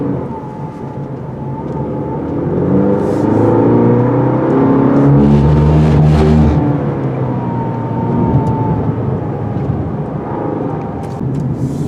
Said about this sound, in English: the turbo makes a lot of weird wheezing noises while it's doing so